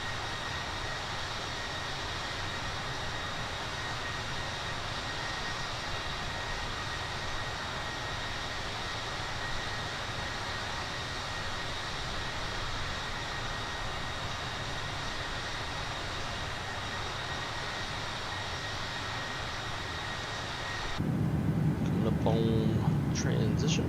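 Simulated Boeing 737-800 jet engines roll for takeoff in the PMDG flight simulator, a steady broad roar with faint whining tones that holds evenly, then grows louder near the end as a voice speaks over it.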